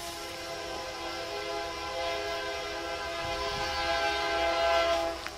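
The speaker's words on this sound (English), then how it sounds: "It's really soothing to my ears to hear the train going by like you're hearing right now." A train rumbles past nearby with a steady, loud drone and droning horn-like tones, holding throughout and swelling slightly toward the end.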